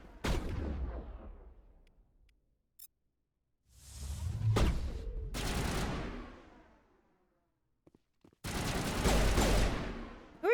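Bursts of gunfire and impacts from a Mass Effect battle, several separated loud volleys with whooshes and thuds between quiet gaps.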